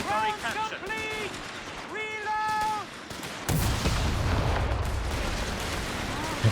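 Machine gun fire in the Company of Heroes 3 real-time strategy game, a loud continuous rattle of bursts with explosions, layered over by a narrator's voice and music tones early on.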